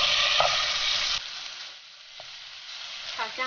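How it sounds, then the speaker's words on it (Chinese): Minced pork stir-fried in a little oil in a freshly heated pan gives a loud, steady sizzle that drops to a faint crackle partway through, with a few light utensil clinks. "把肉末放进来炒香"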